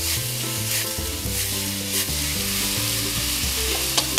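Minced meat frying in a hot pan for a stir-fried Thai noodle dish, a loud continuous sizzle with occasional scraping stir sounds close up, no talking.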